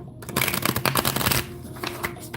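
A deck of cards is riffled and shuffled up close, a dense rapid flutter of slapping cards that then eases into softer, scattered handling sounds.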